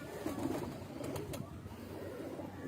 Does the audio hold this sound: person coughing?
no